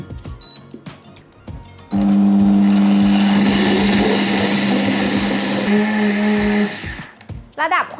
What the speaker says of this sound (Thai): เราเทตัวเครื่องพริกแกงส้มทั้งหมดลงมาในโถปั่นแล้วนะคะ เดี๋ยวเราก็จะปั่นเลย